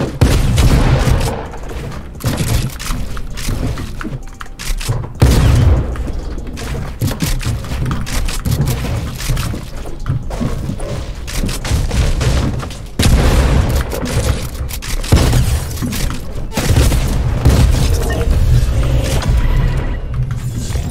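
Sustained gunfire from a drum gun in a Fortnite battle, a loud and continuous barrage of shots with scattered heavier bangs throughout, no talking.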